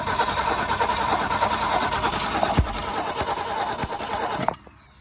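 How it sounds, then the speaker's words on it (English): A 1965 Ford Falcon two-door post car, parked since the mid-1990s, cranks over with a hot-wired ignition. The starter whirs loud and steady in a fast rhythmic churn for several seconds, then cuts off abruptly. "This baby should crank."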